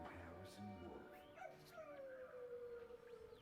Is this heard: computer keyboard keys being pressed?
no